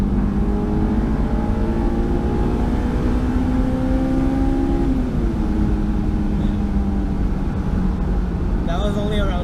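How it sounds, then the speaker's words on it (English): A Honda S2000 engine revs up toward about 8,000 RPM, a steady rising mechanical tone that climbs, holds near the top and then drops back, close and loud throughout. "it's awesome revving it all the way out. I'll show you right now."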